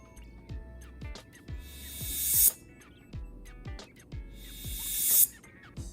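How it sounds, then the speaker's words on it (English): A song's last chorus with a rising swell effect: a steady pulsing beat with punchy low thumps and a hissing noise sweep that builds loudly twice, each cresting and cutting off sharply. "I just added this little swell into the last chorus"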